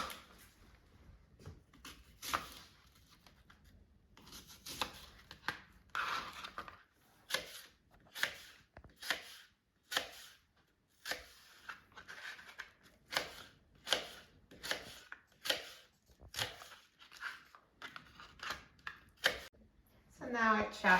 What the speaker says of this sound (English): first, I'm going to chop the apples in small pieces